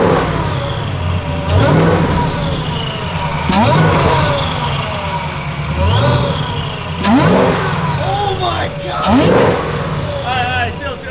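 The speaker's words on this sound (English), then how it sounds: "It whines like a freaking video game Hellcat now." A Whipple supercharged Gen 5 Camaro engine blips up to about 2,000 RPM again and again, each rev carrying a rising, then falling supercharger whine. The car is loud and close, with about five rev bursts at a steady rhythm and voices under the engine.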